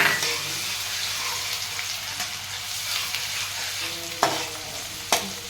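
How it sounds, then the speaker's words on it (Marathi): Onion frying in a pan for misal, a steady hiss of sizzling oil with soft stirring and two sharp spatula knocks near the end, no talking. "चांगला फ्राय करून घेऊ कांदा"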